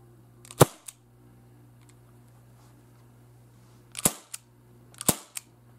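An airsoft Colt Python .357 Magnum revolver fires three sharp, close cap-like shots, one early and two about a second apart near the end, with a faint steady hum between them.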